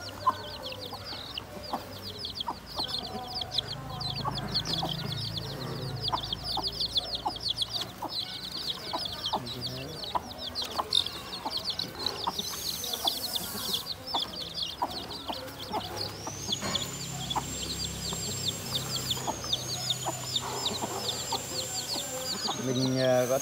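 Farmyard hens cluck and chicks cheep nonstop near and far, with a few louder calls standing out over the busy flock chatter.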